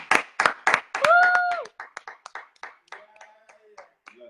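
A few quick hand claps, then a sustained vocal cry, followed by lighter, irregular clapping mixed with brief voice sounds.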